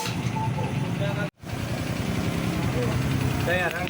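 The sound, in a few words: Honda XRM 125 FI motorcycle engine idling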